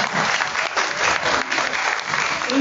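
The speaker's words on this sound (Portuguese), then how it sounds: "salva de palmas, meu povo!" Audience applause at a book launch for a pocket edition at a literary festival, a dense steady clapping from a crowd that carries on unbroken for a few seconds, loud and near.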